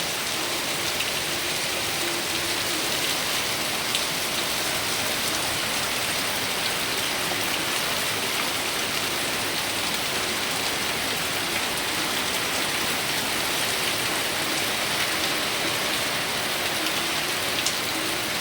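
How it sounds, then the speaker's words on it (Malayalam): Heavy rain pours onto a home garden and yard in a loud, constant, close wash of drops that never lets up. "പറമ്പിലും മഴ പെയ്യണ"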